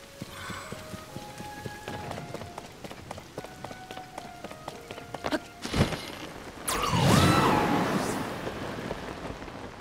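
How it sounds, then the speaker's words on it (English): Steady rain falls in the video game The Legend of Zelda: Tears of the Kingdom, a soft continuous hiss under game music and effects that swells into a louder, fuller rush near the end. "Please tell me it's gonna stop raining."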